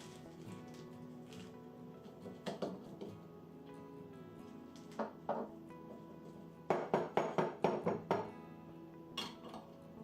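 Glass jars clink and knock as a saved spaghetti sauce jar is filled with plantain, scattered soft taps, then a quick cluster of sharper clinks near the end, faint and close.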